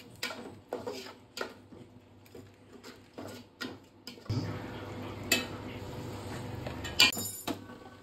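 A cooking pot of chicken biryani being stirred lightly at home, giving a run of separate scraping and clinking strokes, then a denser, louder scraping spell with sharp metallic knocks near the end, close and without talk.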